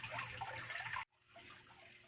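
Water rushes down through the pipe of an aquaponics barrel in a small greenhouse, a steady close gurgling flow that cuts off abruptly, then continues more quietly.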